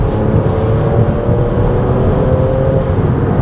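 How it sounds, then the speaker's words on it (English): Inside the cabin of a supercharged V6 Audi S4 at full throttle, a steady muted engine drone and road rumble fill the space evenly, with a faint rising whine. "Even at full throttle inside the cabin, the S4 is relatively quiet."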